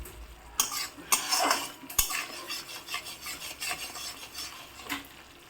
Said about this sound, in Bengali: দেখো মাংসটা কষতে শুরু করে দিয়েছে